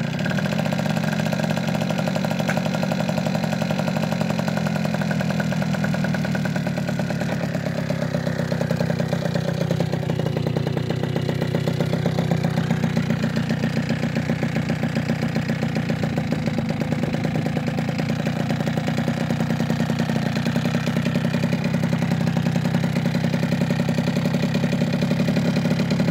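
Peugeot 103 Fox Racer moped engine running steadily after a kick start, a close two-stroke putter with rattly clatter holding a constant idle throughout, no talking.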